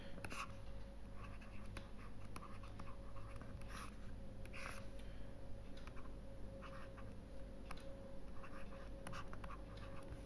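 Pen scratching steadily as a teacher writes out a maths solution for an indices and surds problem, with soft intermittent strokes and taps over a constant low hum, no voice.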